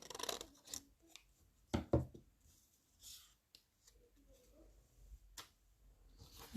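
Scissors cut diagonally across folded paper while an envelope is made, a few quiet separate snips and rustles with short gaps between them, heard close.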